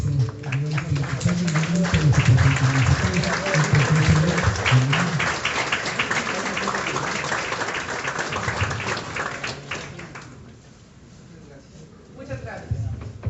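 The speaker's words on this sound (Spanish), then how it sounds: "Vamos a brindar un fuerte aplauso" Audience applause for a lecturer at a formal keynote lecture on democracy, a sustained wash of clapping from a seated crowd lasting about ten seconds before fading, with a voice speaking over its start and again at the end.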